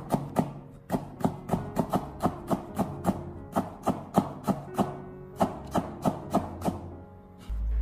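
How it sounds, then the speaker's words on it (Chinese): A kitchen cleaver slices potato pieces into fine shreds on a cutting board, producing a steady run of crisp, close chopping knocks in a quick even rhythm with brief pauses. "最后再用菜刀将土豆片改刀切成土豆丝，尽量的把它切得稍微细一点"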